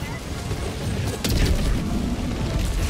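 A Hellbomb detonates in the video game Helldivers 2, a sudden deep boom that swells into a sustained heavy rumble amid ongoing battle noise.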